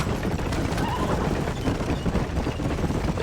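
A horse in Red Dead Redemption whinnies over galloping hooves and dense game sounds, a brief neigh standing out amid a continuous, busy mix.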